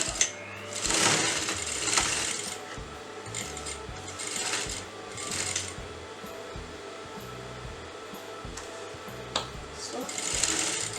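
A sewing machine stitches a blouse shoulder seam in short whirring bursts with pauses between them. Someone speaks quietly between the runs.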